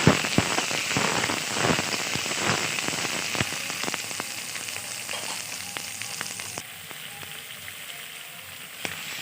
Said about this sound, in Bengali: এবার এই একই তেলে দিয়ে দিব এই যে কিছুটা তেজপাতা আর মটরশুঁটি। এবার একটু হালকা করে ভেজে নিব।